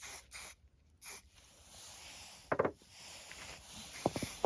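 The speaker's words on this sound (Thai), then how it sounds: "ก็มาจัดการ สเปรย์นะคะทำสี กิจกรรมของเด็ก" Spray paint is sprayed onto stones in short hissing bursts, several quick spurts with pauses between them, close by, outdoors in snow.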